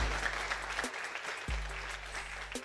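Audience applause fills a hall at an Indonesian MPLS school orientation event, a dense steady patter of many hands broken by short gaps, with a low hum and occasional thumps underneath.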